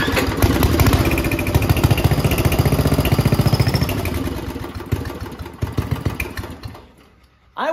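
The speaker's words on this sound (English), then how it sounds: "So now that we know that the engine runs, we have fuel" A junkyard go-kart's small engine, primed with brake cleaner, fires after a pull start and runs loud and close with a rapid, uneven putter, then sputters down to near quiet before a last burst at the end.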